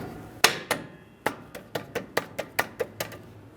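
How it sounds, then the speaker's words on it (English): Hammer tapping drum brake shoes into place on a 1994-2001 Dodge Ram 1500, about a dozen sharp metallic taps close by, sparse at first and then quickening into a steady rhythm. "Now let's just go ahead and tap on the shoes"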